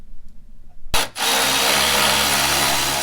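A power tool runs continuously and loud, starting abruptly after a short quiet stretch, while removing the fan shroud bolts on a 2002-2005 Toyota 4Runner.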